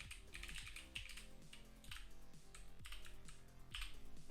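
Someone types on a computer keyboard during a coding stream, a quiet run of close, quick key clicks in uneven bursts with short pauses.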